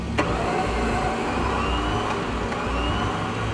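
A vehicle engine holds a steady, loud drone while given light gas in reverse to pull on a rope, staying even throughout with no clear revving and no speech.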